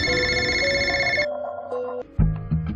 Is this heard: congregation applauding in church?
no